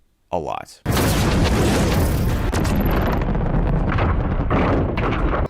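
A sudden loud blast erupts and keeps roaring as a dense, continuous wall of explosive noise in a Transformers movie, with a brief whooshing sweep just before it.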